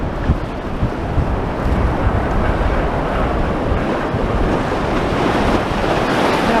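Sea waves and wind at high tide along Blackpool promenade make a steady, loud wash of surf with gusty microphone buffeting and no distinct breaks or voices.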